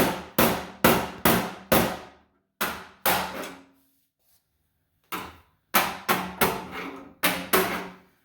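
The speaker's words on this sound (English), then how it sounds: "take a flathead screwdriver and a hammer" Sharp, ringing hammer strikes on a flathead screwdriver punching out a metal knockout on a range hood, in quick clusters of three or four, a pause of near silence, then more rapid clusters of blows.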